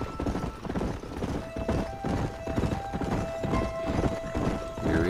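Horses trotting in the video game Red Dead Redemption, hooves clip-clopping in a steady rhythm close by, with a faint whinny and a low steady tone running underneath.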